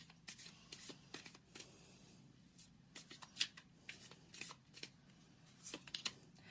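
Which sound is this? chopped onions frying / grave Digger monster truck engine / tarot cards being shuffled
tarot cards being shuffled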